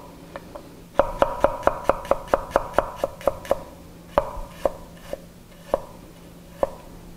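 A knife slices garlic thinly on a cutting board in a quick run of crisp, evenly spaced taps, then slows to a sparser, irregular rhythm of single close cuts.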